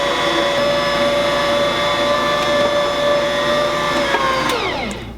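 A stand mixer kneads potato dinner roll dough in a bowl, a loud steady motor whine with a constant tone that holds evenly, then winds down at the end, with no talking.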